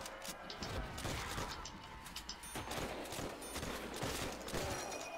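Dense gunfire rattles almost continuously in a Call of Duty: World at War zombies match on a nightclub map, overlapping bursts with mechanical weapon clatter, fairly faint and steady throughout.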